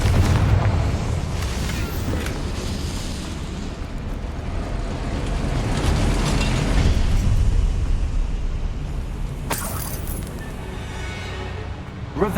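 Heavy, rumbling blasts from the Confringo spell in Hogwarts Legacy roll on continuously with booming low-end bursts, loud and close, then a sharp bright crack near the end.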